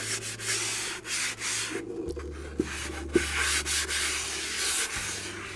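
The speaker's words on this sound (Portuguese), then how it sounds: "nós vamos lixar toda a peça com a esponja abrasiva." Abrasive sponge sanding a wooden piece by hand, a close, continuous scratchy rubbing in steady back-and-forth strokes with a couple of faint knocks.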